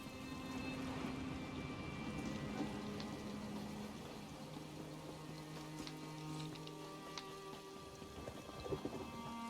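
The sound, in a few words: thunderstorm in Elder Scrolls Online video game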